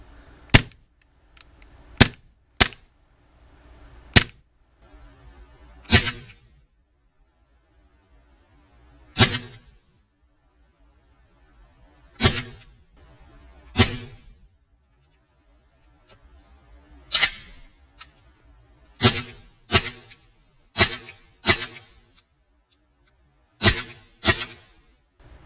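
An Umarex Smith & Wesson M&P 40 CO2 blowback BB pistol is fired about fifteen times. Sharp, loud cracks come one at a time or in quick pairs, separated by irregular pauses.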